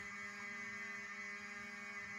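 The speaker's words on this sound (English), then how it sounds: "I'm glad the damn fire alarm came on so you can hear the damn fire alarm" A fire alarm sounds as a steady, loud electronic tone with bright harmonics, held continuously throughout with no voices.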